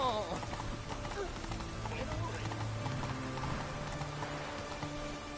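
Roach the horse gallops in The Witcher 3, a steady clip-clop of hooves running beneath rain-like noise, game music and a voice talking over it.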